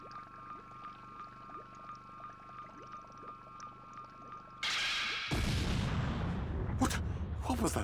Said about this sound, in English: What was that explosion just now?